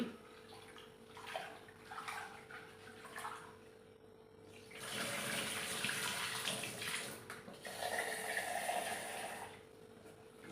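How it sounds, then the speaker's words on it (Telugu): Rice is washed in water with running tap water and sloshing, a soft splashing that comes in bursts and pauses, louder in the second half, with no talking. "ఇక్కడ బియ్యం కడిగి పెడుతున్నానండి"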